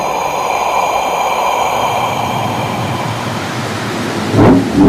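Snowstorm with thunder: a steady roar of wind-driven noise that builds into a loud rumbling thunderclap near the end, with no voices.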